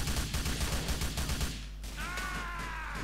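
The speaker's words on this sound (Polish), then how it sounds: "Wszędzie słyszę jeszcze te strzały." Rapid bursts of gunfire in Grand Theft Auto IV crackle loudly over the first half, then give way to a low rumble and a rising whine.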